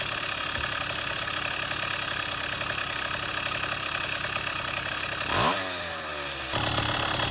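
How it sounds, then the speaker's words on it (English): Two-stroke engine after carburetor jetting adjustment, idling steadily with a buzzy drone, then a quick throttle blip revs it up and it falls straight back down to a smooth idle; loud, close and alone. "you're gonna hear when you rev the engine and then it drops back to idle, it does it pretty quickly"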